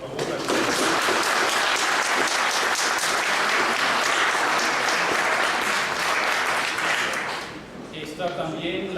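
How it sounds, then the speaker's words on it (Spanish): Dense audience applause welcoming a guest speaker at an event on a Mexican institution's Tlalnepantla campus, loud and continuous before fading out, with a voice starting at the end. "quien pedimos un aplauso, por favor"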